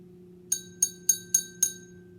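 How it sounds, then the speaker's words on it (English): A drinking glass holding water is tapped five times in an even rhythm, and each strike gives a clear, bright ringing pitch that quickly fades. The sound is close, over a low steady background hum. "We're going to see how the amount of water changes the pitch in each glass."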